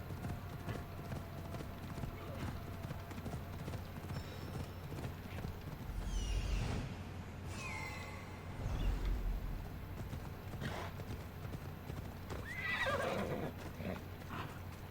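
Horse hooves clip-clop steadily with a couple of neighs in the Assassin's Creed Odyssey video game, over continuous game ambience and background music.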